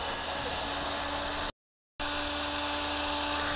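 A power drill runs steadily with a high whine as it reverses a screw out of wood in a carpentry workshop, cutting out briefly midway before starting again.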